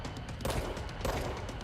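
Rockets are fired in a video game as a dense burst of explosive bangs and rumbling blasts, loud and continuous through the short clip.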